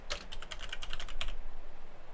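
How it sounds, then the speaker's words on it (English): Loud, clicky computer keyboard typing: a rapid run of sharp, close keystrokes for about a second, then a quiet background with no talking. "You get some loud clickety keyboard ASMR as well."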